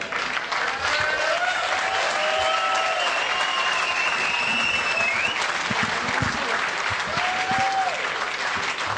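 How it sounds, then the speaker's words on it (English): An audience at a boxing bout applauds both fighters, sustained crowd clapping for several seconds with faint cheers and whistles rising over it before it eases slightly near the end. "Ladies and gentlemen, big applause please for both fighters."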